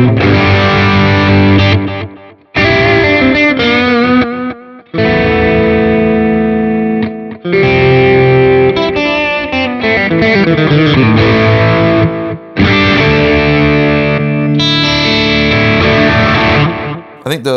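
Electric guitar played through a Line 6 HX Stomp preset with a faster delay, probably a Telecaster, heard as loud distorted phrases with echoing repeats and brief gaps between passages, alone without talk.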